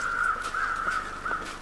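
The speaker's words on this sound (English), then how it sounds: "There's an awful lot of squawking going on from the crows." Crows cawing in the snowy wilderness of The Long Dark, with several harsh, rasping caws in quick succession, moderately distant over a quiet ambient background.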